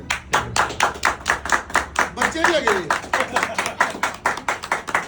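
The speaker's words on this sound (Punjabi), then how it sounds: "ਤਾੜੀ ਮਾਰ ਦੋ" A group of people in a gym clap together in a steady, evenly spaced rhythm of sharp, close claps, about four per second, while someone talks briefly over them partway through.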